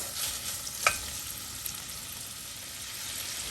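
Smoked turkey softening in a pot of fat gives a faint, steady sizzling hiss, with one small pop near the start and no voices.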